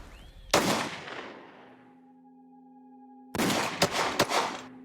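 Gunshots fired during police firearms training, with one sharp, loud shot, then a pause with a lingering tonal hum, then a quick burst of several close shots.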